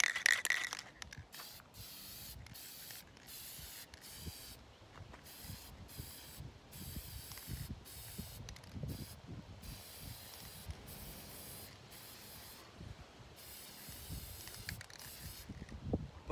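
Spray paint hisses in repeated short bursts while a white base coat goes onto a homemade catfishing float, a close, steady spraying with brief pauses between passes.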